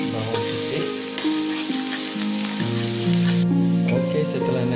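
Garlic frying in about 40 ml of hot oil, a steady close sizzle that runs unbroken under melodic background music.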